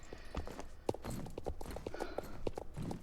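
Horse hooves clip-clop in the video game Star Stable: quick, fairly close, uneven hoofbeats on a hard surface, heard alone with no talking.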